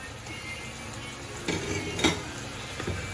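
A spoon stirs spice into beef in a pot for Nigerian beef curry, with soft sizzling underneath and a few clinks and scrapes against the pot, close and moderately loud with no talking.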